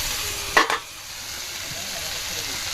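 Chilli, chopped onion, garlic and potato being sautéed in a pan on a home stove, giving a steady faint sizzle with a brief louder clatter of stirring near the start.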